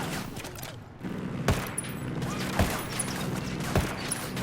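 A minigun in the video game Ghost Recon Wildlands fires in long sustained bursts, a dense rattling roar punctuated by a few louder cracks, filling the whole stretch without talk.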